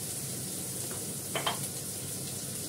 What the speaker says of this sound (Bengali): ভালো করে ভেজে নিই